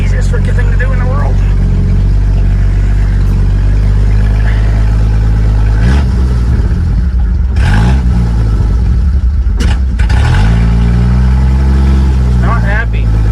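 An International Harvester L-130 truck engine runs steadily, still not fully warmed up, with a low continuous rumble and shifts in pitch as it is driven, while someone talks over it.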